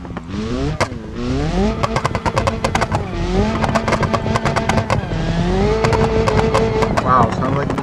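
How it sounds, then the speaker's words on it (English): BeamNG.drive car engine with anti-lag, revving hard through rising and falling pitch with rapid popping crackles between gear changes, while a person talks over it. "sounds like this thing has an anti-lag"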